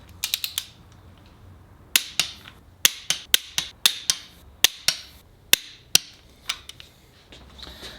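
Torque wrench tightening bolts to 51 foot-pounds on a Subaru EJ207 long block being rebuilt: a close, irregular series of sharp metallic clicks and ratcheting snaps with quiet gaps between them.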